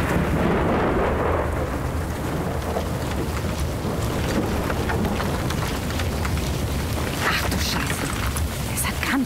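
Heavy rain pours in a thick, steady hiss during a thunderstorm, with a deep rumble of thunder swelling near the start and sharper crackles and bursts of rain later, loud and close throughout.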